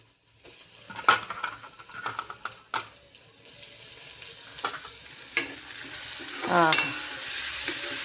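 Tomato going into a pan for a cluster-bean dish, with clattering stirring knocks and scrapes, a rising sizzle, and water-like splashing near the end; a brief spoken word appears.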